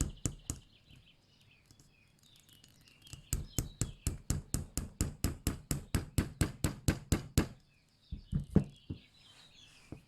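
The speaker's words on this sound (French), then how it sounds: "vous prenez un petit marteau et vous tapez doucement pour aller droit." A small hammer taps a tiny nail into a wine cork for a cork-stopper birthday calendar, about twenty quick, even, close knocks in a steady run, with a few scattered taps before and after.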